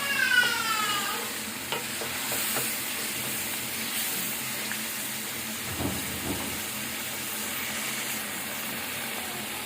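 Chicken with yogurt fries in a karahi-style pan for a creamy white karahi, a steady hiss and sizzle joined by occasional scraping stirs of the spoon, moderately loud with no talking.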